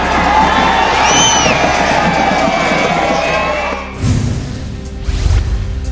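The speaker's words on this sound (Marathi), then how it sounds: "करमाळा तालुक्यातील नागरिकांची मोठ्या प्रमाणात गर्दी" A large crowd gathers at a village temple fair in Karmala taluka, where 12 bullock carts are pulled by a tuft of hair. A dense, loud roar of voices and cheering fills the air, then thins into rumbling, scattered crowd noise.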